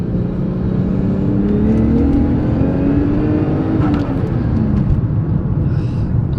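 Manual Toyota Crown engine pulls hard under boost on a road run, a loud steady drone with a rising tone that climbs and holds throughout, dense and close with no pause.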